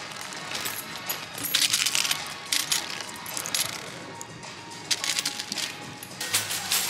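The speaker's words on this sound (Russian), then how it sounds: "Набрали монеток, теперь Чижик-Пыжик обалдеет от всей этой мелочи." A handful of small coins jingles and clinks as loose change is gathered, bright metallic bursts coming in irregular clusters close to the listener.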